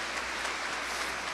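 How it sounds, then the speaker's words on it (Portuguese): A church congregation claps during a sermon, a faint, steady wash of applause heard at a distance with no clear individual claps. "vamos aplaudir a Deus"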